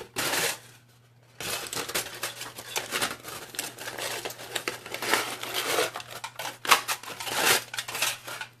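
Aluminum foil crinkled and wrestled with by hand while die cutting a bottle tag, loud continuous crackling close by, with a brief pause near the start and sharper crumples throughout.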